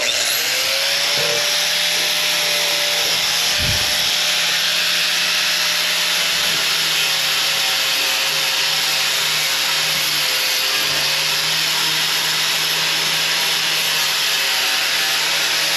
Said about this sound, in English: Prep it a little bit. Some light sanding.